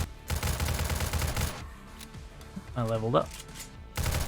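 Bursts of gunfire in the zombie survival video game 7 Days To Die, a dense rapid volley early on and another at the end, with someone talking over the shots.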